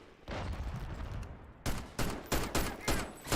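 Video game weapons fire: a rough, continuous burst first, then about six sharp separate shots in a quick uneven rhythm, loud and close with no talk.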